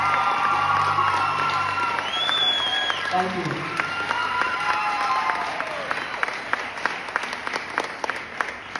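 Audience applause and cheering after a singer's stage performance of a song at a live show, a steady dense wash of clapping with scattered whoops and crowd voices throughout.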